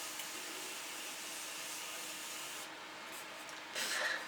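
An aerosol spray can running low releases a steady, close broadband hiss for several seconds, thinning out and turning slightly sputtery toward the end while applying product to skin as part of a foundation routine.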